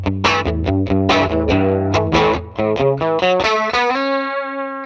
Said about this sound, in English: I can hear the chorus, but the reverb must be small hall.